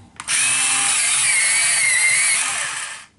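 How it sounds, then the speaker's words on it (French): An electric pencil sharpener whirs loudly for about three seconds, a high grinding buzz that starts abruptly and tapers off at the end. "je vais faire un petit peu de bruit parce que je vais venir tailler mes crayons"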